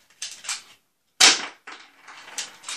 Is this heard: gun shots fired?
yes